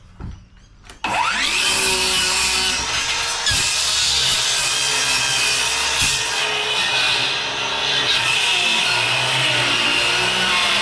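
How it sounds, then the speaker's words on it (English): Skil circular saw biting into wood after a brief quiet start, then a loud continuous high whine of the blade cutting through for the rest of the clip. "Trusty skill saw. That'll get us through this."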